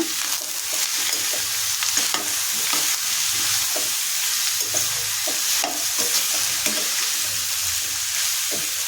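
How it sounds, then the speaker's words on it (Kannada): Ridge gourd stir-fry with turmeric and salt is stirred in a pan, a steady sizzle running under repeated scraping and stirring strokes throughout, close and fairly loud with no voices. "ಮತ್ತೊಮ್ಮೆ ಎಲ್ಲ ಪದಾರ್ಥಗಳನ್ನು ಚೆನ್ನಾಗಿ ಮಿಕ್ಸ್ ಮಾಡ್ಕೊಳ್ಳೋಣ"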